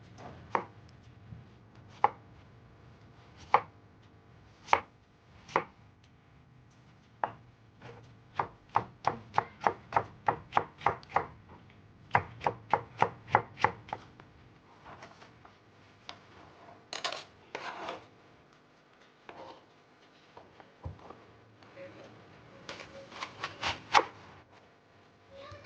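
Knife chopping a potato into long strips on a cutting board, sharp crisp chops coming singly and in quick bursts, close and clear with no talking.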